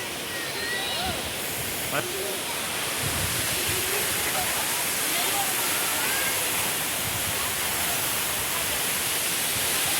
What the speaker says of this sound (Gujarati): મસ્ત મજાનું ઝરણું છે